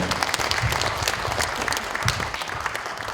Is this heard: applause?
yes